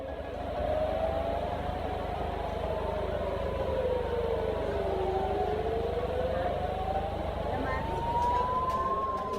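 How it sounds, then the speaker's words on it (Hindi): Air raid sirens wailing in northern Israel, a steady rising and falling tone that sweeps slowly up and down over a constant low rumble, with a voice talking throughout. "उत्तरी इलाके में लगातार हवाई हमलों के सायरन बज रहे हैं"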